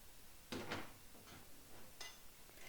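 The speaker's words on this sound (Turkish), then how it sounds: "Tarhanın çözülmesi için bir çatalla karıştıralım." Soft clinks and scrapes of a fork stirring tarhana soup mix with water in a bowl, a few louder strokes near the start, close and fairly quiet.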